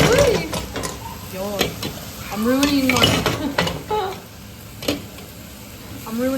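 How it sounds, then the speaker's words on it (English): Chicken pan frying in a skillet on a home stove, with clattering pans, utensil scrapes and a faint sizzle, while someone speaks briefly. "So I'm just pan frying the chicken"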